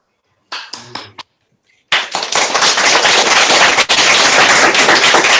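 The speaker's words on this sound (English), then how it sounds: "So we're going to give you another big round of applause" An audience at a prize winners announcement ceremony applauds: after a few brief spoken sounds and a short pause, a sudden loud burst of dense clapping starts and holds steady to the end.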